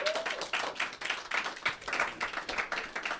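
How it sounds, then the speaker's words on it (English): A round of applause from a modest audience, individual hand claps fairly distinct and close, uneven in rhythm and sustained for a few seconds. "Can you please give them a round of applause?"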